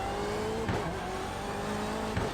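A BMW M8 race car in the iRacing simulator at Brands Hatch holds a loud, steady engine drone, with brief shifts in pitch as it brakes and drops a gear.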